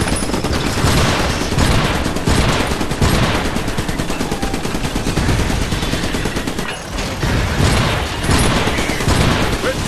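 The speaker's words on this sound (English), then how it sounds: "We're taking fire." Relentless loud gunfire from a shotgun turret in the video game Iron Brigade, dense overlapping blasts and explosions forming a constant barrage with rhythmic heavy thumps throughout.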